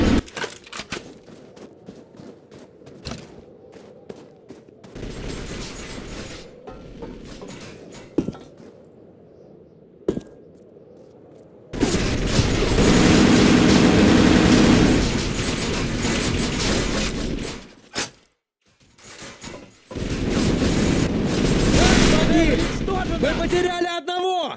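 Bursts of rapid gunfire and booming blasts from the game Arctic Combat, loud and dense, broken by short quiet gaps, with faint speech in the calmer stretches.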